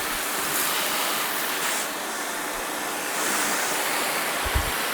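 Water sprays steadily from a hose onto a Hyundai i20 during a car wash, a continuous broadband hiss with slight surges, loud and close with no talking.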